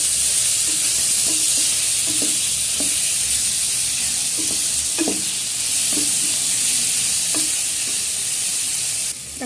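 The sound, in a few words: tomatoes sautéing with onions in pan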